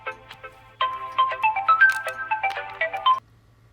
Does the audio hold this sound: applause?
no